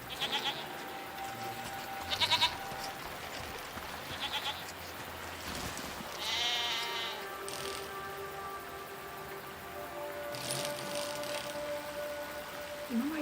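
Sheep bleat in the video game Season: A Letter To The Future, several short wavering calls spaced across a soft ambient backdrop, moderately near, with occasional faint chimes.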